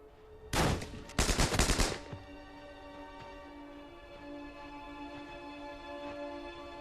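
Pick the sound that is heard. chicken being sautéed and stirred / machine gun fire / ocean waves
machine gun fire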